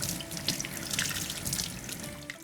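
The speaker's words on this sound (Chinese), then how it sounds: "削皮之后呢，我们稍微给它清洗一下。" Peeled vegetable rinsed under a running kitchen tap, a steady close hiss of water splashing into the sink with small drips throughout, no talking.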